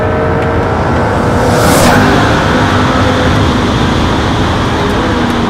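A McLaren P1 sports car engine roars loud and steady as it is driven, swelling briefly midway over a continuous dense rumble of road and wind noise.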